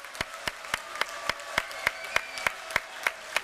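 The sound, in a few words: audience applause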